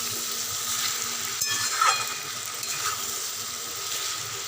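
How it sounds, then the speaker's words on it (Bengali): Onions fry in a pan with salted, turmeric-coated prawns for prawn dopiaza, giving a continuous close sizzle with a few soft stirring scrapes and no speech. "এবার এটাকে ভালো করে একটু ভাজা করব"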